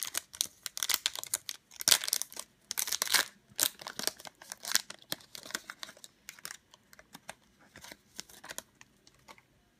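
Packaging on a Pikachu collectible box is torn and crinkled open, with close, dense bursts of tearing and crumpling that thin out toward the end; no voices.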